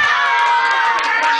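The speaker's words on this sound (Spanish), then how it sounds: "¡Gritos y aplausos para acá!" A crowd of children at a birthday party shouts and cheers in a loud, continuous burst, their high voices blending into one sustained roar.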